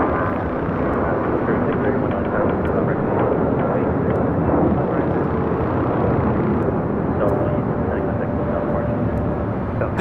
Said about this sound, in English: 2869 taking off to San Antonio, Texas on an A319